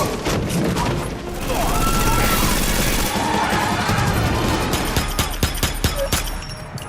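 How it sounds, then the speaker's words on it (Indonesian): A burst of gunfire in a film scene about a betrayed army veteran: rapid overlapping shots crack loudly, followed by sharper separate reports. A shooting follows a car crash, and other noise from the scene mixes in. "Sialnya, Paijo berhasil menembak Bosco hingga terjatuh"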